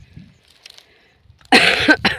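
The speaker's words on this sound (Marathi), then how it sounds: "खोकला खूप आहे" A woman out in a chickpea field during harvest coughs loudly and close up, two harsh bursts after a quiet stretch of faint field noise.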